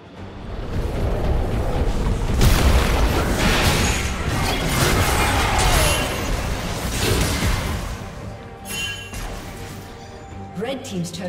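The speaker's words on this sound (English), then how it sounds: "Red Team's turret has been destroyed." A turret being destroyed in League of Legends, heard as a sustained crashing, rumbling explosion with debris noise that fades out, followed by a few faint clicks.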